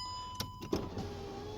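An electric power window winds down on a parked car with the ignition on, during a CV axle repair: a steady whirring motor run with a couple of brief clunks near the start, fairly close and moderately loud.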